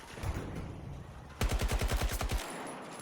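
A weapon fires in Battlefield 2042 in a rapid automatic burst of about a dozen evenly spaced shots lasting roughly a second, loud and close after quieter background ambience.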